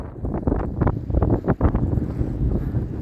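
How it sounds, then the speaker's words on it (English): Wind buffets a microphone outdoors, making a continuous close, loud low rumble with gusting surges and no talking. "Hopefully that wind's not too bad on you guys."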